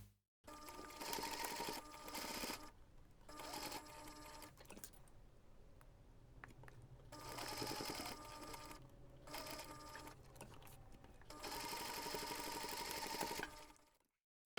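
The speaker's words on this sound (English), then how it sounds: "So now we're going to take this to the machine one more time and we are going to sew along those three sides" A sewing machine stitches along the sides of a fabric photo keychain, its rapid mechanical chatter coming in several bursts separated by short pauses, close and clear with no voices.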